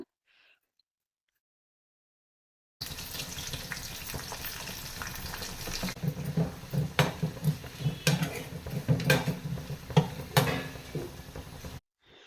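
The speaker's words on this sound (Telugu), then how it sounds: "పప్పుకు రసానికి రెండిటి కలిపి ఒకే బౌల్ అయితే పోపు పెడుతున్నాను" Tempering spices sizzle loudly in a small bowl for dal, a busy crackling fry with scattered sharp pops and stirring scrapes that runs for several seconds after a quiet start.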